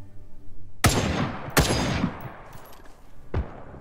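Three loud, sharp gunshots ring out in the survival video game The Front, spaced unevenly over a few seconds, each one followed by a long ringing tail over faint background noise.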